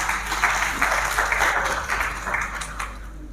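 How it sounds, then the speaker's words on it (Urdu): Audience applause at a literary gathering, a dense, steady wash of clapping with rhythmic swells, fairly loud and continuous throughout, no clear speech over it. "میں دعوت دیتی ہوں آپ کی بھرپور تالیوں میں"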